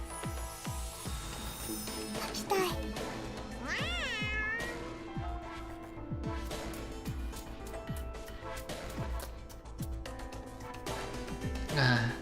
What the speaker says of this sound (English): This trumpet is so loud. Also sounds like a cat.